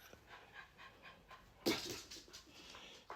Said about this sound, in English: Is that you breathing, Chubby?